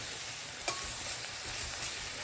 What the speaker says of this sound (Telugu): మళ్ళీ ఒక్కసారి మధ్యలో కలుపుదాం